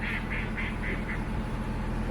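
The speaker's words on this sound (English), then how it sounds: "here's the ducks" Ducks on a canal give a quick run of about five loud, close quacks in the first second, then fall quiet against a steady rumbling background.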